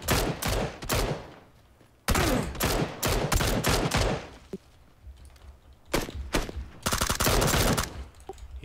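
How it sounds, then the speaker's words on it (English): Video game gunfire crackles in rapid, close bursts of overlapping shots and automatic fire, broken by short quiet gaps, with no talking. "The shots had to come from this tree."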